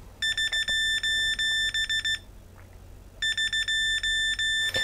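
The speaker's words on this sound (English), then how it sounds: "and the alarm starts off." Lost-model alarm on a Vortex 250 Pro quadcopter beeping in rapid shrill pulses, a burst of about two seconds, a pause, then another burst, loud and close over a low hum.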